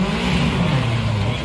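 A rally car on a tarmac stage at the Speyside Rally revs hard and loud, its engine note dropping briefly as it shifts up before pulling again.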